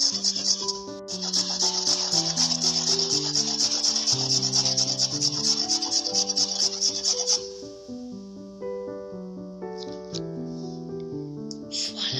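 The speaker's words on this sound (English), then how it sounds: "Now we're going to chop and grate them." Beetroot is grated by hand, a close rhythmic rasping rub repeating quickly for several seconds before stopping, with soft background music throughout.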